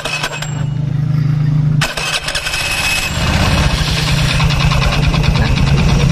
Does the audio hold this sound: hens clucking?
no